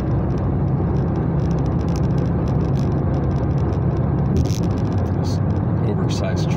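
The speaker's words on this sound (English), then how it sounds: "this oversized truck is kind of hovering on my right" An oversized truck rolls alongside on the right of a car on the road, giving a constant close whirring rumble of engine and tires, with a person talking over it.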